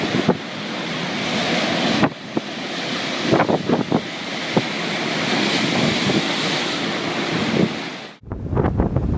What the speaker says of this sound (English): A terrible hurricane swept in from Greenland, turning the European coastline into a massive water park.